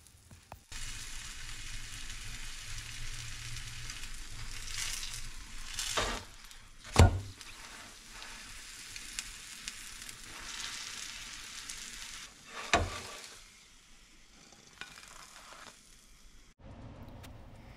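Kulcha flatbread cooking in a hot pan with ghee or butter spread on top: a soft continuous sizzle with a few sharp knocks and scrapes, fairly quiet.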